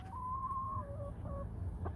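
Backyard coop with chickens and a small rooster: soft clucking tones rise and fall over a steady low rumble of background noise, faint and a little distant, with no talk.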